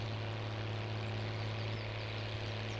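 Steady low tractor engine idle in Farming Simulator 19, a constant drone with a strong low hum and even texture throughout, no talking.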